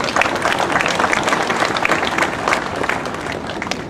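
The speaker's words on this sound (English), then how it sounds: "Give yourselves a round of applause." An audience at a Vietnam War Veterans Day ceremony applauds the veterans, dense continuous clapping from a crowd sustained evenly throughout, fairly near and full.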